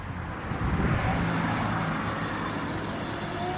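Electric VW Bus camper's wheels spinning up lightly under its motor controller, a steady low whirring rumble with a faint rising tone, continuous throughout and fairly close.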